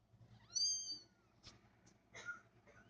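Newborn kittens cry nearby: one thin, rising mewl followed by several shorter, fainter squeaks and rustles, quiet and close with no talking.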